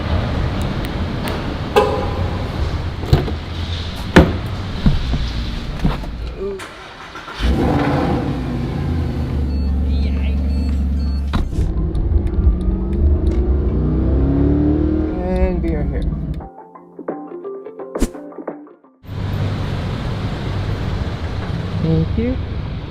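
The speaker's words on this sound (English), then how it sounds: "We are going to be taking a ride in the SLS" Mercedes SLS AMG GT3 race car driving, its engine rumbling and revving loudly with rising and falling acceleration, broken by a short quiet gap, with people talking over parts of it.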